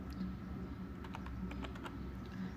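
Faint, irregular keystrokes on a computer keyboard tap out HTML code, with a couple of quick clusters of clicks over a low background hum.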